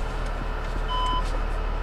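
An Audi A6 with a dual-clutch transmission, about 180,000 km on it, put into reverse gives a steady repeating series of electronic warning beeps over a low idling hum, close up and without speech.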